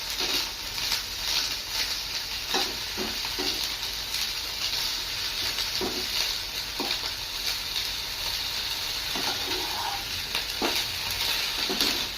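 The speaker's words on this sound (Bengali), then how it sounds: "ওই তেলের মধ্যেই ব্রকলিগুলো দিয়ে একটু নেড়ে চেড়ে নেব।" Broccoli frying in hot oil in a Bengali-style broccoli and potato dish, a continuous bright sizzle with intermittent knocks and scrapes of a spatula stirring through the pan.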